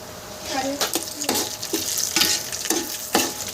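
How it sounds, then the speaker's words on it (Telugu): Chana dal, cumin, urad dal and dried red chillies stirred in hot oil for a ridge gourd chutney, giving a steady sizzle with repeated scraping strokes of a spoon, close and moderately loud, with no talk. "శనగపప్పు జీలకర్ర వెండి మిరపకాయలు మినపప్పు అన్నీ కూడా వేసుకో ఇవన్నీ కూడా ఒకసారి ఇలా వేసుకొని జాగ్రత్తగా వేపుకోవాలి"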